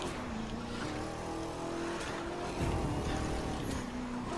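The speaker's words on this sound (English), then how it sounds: "Looks like the taxi car is doing the drifting." Taxi car drifting through a corner in the racing game The Crew 2, engine droning steadily with tonal whine and a brief surge of tire scrub partway through, loud and continuous with no talking.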